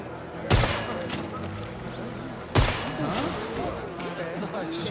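Two sharp gunshots ring out about two seconds apart in the video game Fears to Fathom: Scratch Creek, each a loud, close crack that decays quickly, with people talking in the background.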